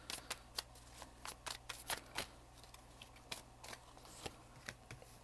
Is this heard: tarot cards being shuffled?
yes